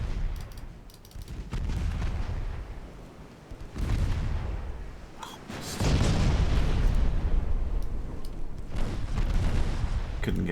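Naval shells fire and explode in a dreadnought battle game, with rolling booms and dull blasts rising in waves, a heavy rumbling barrage that swells louder in the second half.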